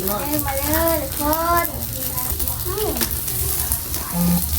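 Steady sizzling of pork frying on a hot tabletop grill outdoors in front of a house runs throughout, under animated voices talking and exclaiming nearby.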